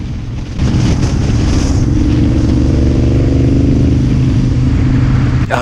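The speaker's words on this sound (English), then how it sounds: "Listen to the exhaust!" Car exhaust revving loudly and steadily close to the microphone, a continuous engine roar with wind buffeting that holds for several seconds and cuts off at the end.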